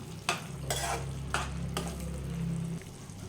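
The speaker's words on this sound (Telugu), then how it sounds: "ఇలా వేసుకున్న మసాలాని బాగా కలుపుకుంటూ ఇంకొక 5 నిమిషాలని ఉడికించుకుందాం" A spoon stirs carrot and coconut masala curry in a pan, giving several scraping strokes over a steady close sizzle of frying.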